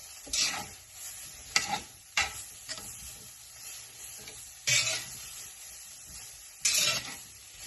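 Chicken and steak quesadilla filling is stirred in a pan, with a soft background sizzle broken by several scraping, clattering stirs at irregular intervals, near and fairly quiet without speech.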